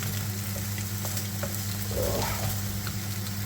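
Canned meat, SPAM or Krakus Golonkowa, sizzles gently in a dry camping pan over low heat, a continuous soft crackle and spit with occasional louder pops.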